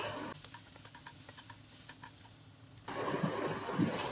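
Spices, grated coconut and a whole tomato fry in a pan for a vegetarian chana dal, a soft sizzle with light ticking stirring, then the frying swells louder and denser near the end.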